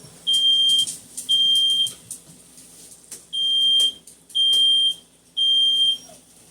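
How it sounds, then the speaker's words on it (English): A kitchen smoke alarm set off while cooking green Mexican rice, sounding five loud, shrill, evenly spaced beeps, each about half a second long, with clattering cooking noises in between. "I think I set off the alarm"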